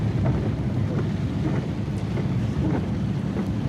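Steady, dense rain pours outdoors during a cyclone in Singarayakonda, blended with heavy wind buffeting the microphone and a low rumble throughout.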